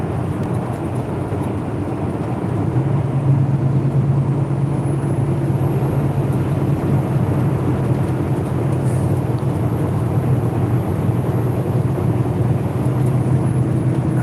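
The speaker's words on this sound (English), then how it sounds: "This little car decided to get right beside me here." Steady, loud road drone of a small car driving right alongside on an Oklahoma highway, a continuous broadband rush with a low engine and tire hum that holds for the whole stretch, no talk.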